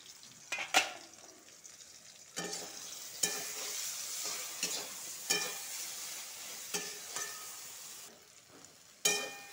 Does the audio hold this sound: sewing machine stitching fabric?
no